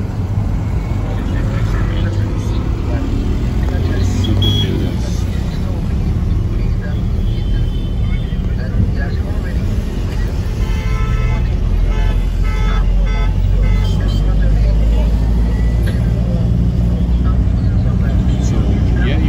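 Vehicles and petroleum tankers at the Bushrod Island entrance in Liberia make a loud, continuous engine rumble with occasional horn toots, steady throughout and close by.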